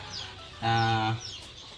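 A single close, loud cluck from a Siruvidai chicken on a farm, a short harmonic call lasting about half a second over quiet background noise.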